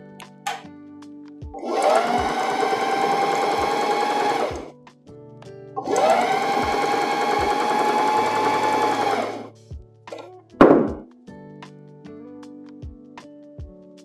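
A sewing machine zigzag-stitches the cups of a stretch bralette with tricot straps, running in two steady whirring bursts of several seconds each, followed by a short third burst and quiet mechanical clicks in between.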